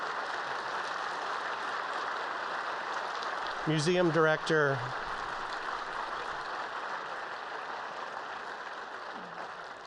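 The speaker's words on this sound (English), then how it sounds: "So please give them another round of applause as they make their way to the stage." Sustained audience applause fills a museum lecture hall as guests walk to the stage, steady and broad throughout, with someone briefly speaking over it near the middle.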